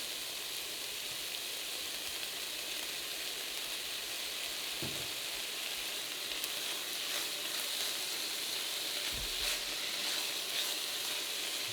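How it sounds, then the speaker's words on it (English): Chopped onions sizzle steadily in hot oil in a pan for chili, a continuous soft crackling hiss with a couple of faint stirring knocks and no talking. "We're going to cook these onions until they're translucent."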